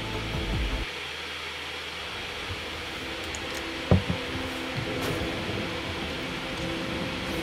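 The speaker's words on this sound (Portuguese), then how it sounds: "É a chaleira elétrica." An electric kettle heats water, giving a steady close roaring hiss over a low rumble that runs the whole time, broken by one brief click midway.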